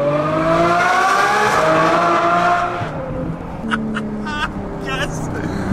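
A loud lifted truck revving hard in a driveway, its engine pitch climbing and holding in a strong roar before easing off, followed by a few sharp higher squeals over a lower idle.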